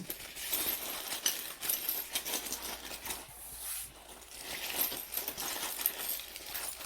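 Small metal tarot charms jingling and clinking as they are pulled from a pile, close and fairly faint, in a stream of light metallic rattles.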